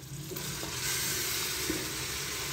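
Beef, about 500 grams, frying with whole garam masala and white cumin in a pressure cooker, a steady broad hiss of sizzling oil with a few faint clinks, close and unbroken, no voices.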